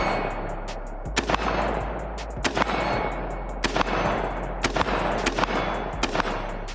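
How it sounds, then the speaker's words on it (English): Rapid rifle shots from a Daniel Defense M4 A1 fired kneeling at roughly 80 to 100 yards, about a dozen sharp cracks in uneven bursts over a steady outdoor rumble, loud and close. "kneeling, shooting at about 100 yards or 80 yards or so."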